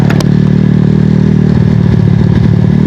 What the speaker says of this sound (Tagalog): Siya lakas talaga nung kanyang makina.